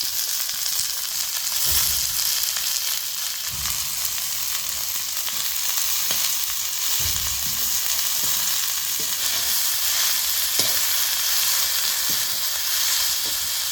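Onion, green chili and garlic fry in oil with a loud, steady, close sizzle that fills the whole stretch, broken now and then by soft stirring scrapes, and no voices.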